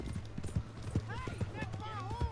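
Horse hooves clip-clopping in Red Dead Redemption 2, a steady close rhythm of hoof knocks over game ambience, with a voice talking over them.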